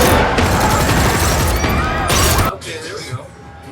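Dense burst of gunfire from a scene in the TV show The Expanse, loud and sustained with crashing impacts for about two and a half seconds, then cutting to quieter background with voices.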